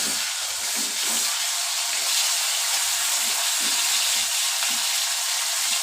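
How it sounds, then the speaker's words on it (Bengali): Pabda fish frying in oil in a pan, a steady loud hiss and sizzle close up with faint stirring or bubbling underneath, no voices. "দেখো এর সাথে আমি পাবদা মাছটা ভেজে নিচ্ছি।"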